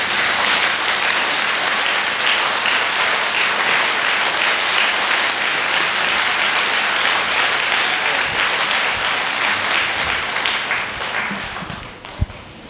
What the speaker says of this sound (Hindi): और ताली जो बजाते हैं परमेश्वर के लिए, ऐसे ताली बजाना चाहिए।